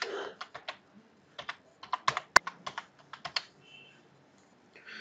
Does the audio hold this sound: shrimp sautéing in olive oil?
no